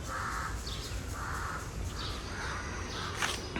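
Crows caw in a few short repeated bursts over steady background hiss, fairly clear and somewhat distant, with no talking, in a quiet residential area of Dombivli with no traffic.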